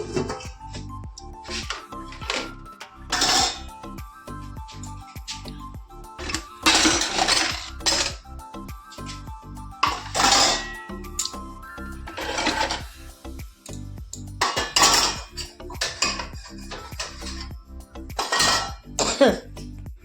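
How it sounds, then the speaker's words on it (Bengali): Dishes and utensils being stacked and put away in a home kitchen, a busy stream of clinks, clatters and scraping knocks, close and fairly loud, with steady irregular rhythm throughout. "বাসন কটাকে গুছিয়ে নেবো"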